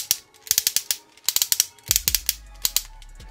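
Hip ratchet joints on a Transformers Studio Series Jetfire toy click in quick close-up runs, crisp sharp ticks in uneven bursts, with a low hum underneath in the second half.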